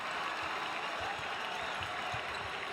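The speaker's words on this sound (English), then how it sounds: "And the crowd all abuzz." Steady applause and crowd roar fill a packed Madison Square Garden at an NBA game between the Lakers and Knicks, with dense, continuous clapping throughout and no voices standing out.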